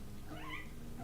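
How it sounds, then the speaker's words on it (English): A cat meows once indoors, a short rising-and-falling cry heard faintly over a steady background hum. "Oh, that is a cat."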